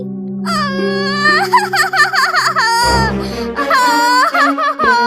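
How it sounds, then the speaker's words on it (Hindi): A baby goat cries in a Goldilocks cartoon, giving a loud, wavering, high-pitched wail with sobbing breaks and whimpers, heard alone. "जब बकरी की बच्ची रोने लगी"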